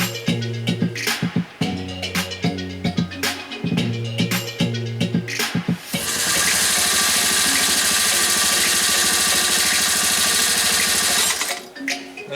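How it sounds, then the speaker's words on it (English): A Singer 96K41 light industrial quilting sewing machine sews a row of stitches. Short stop-start bursts of motor hum and needle clatter lead into a long, steady, loud run of rapid stitching that then stops. "I'll try to sew off a row of stitches for you"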